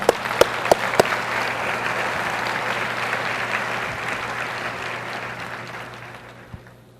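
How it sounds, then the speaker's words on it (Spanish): Church congregation applause during a worship service, a broad steady round of clapping with a few sharp individual claps standing out near the start, slowly thinning and fading toward the end. "Dele un aplauso a Él, porfa."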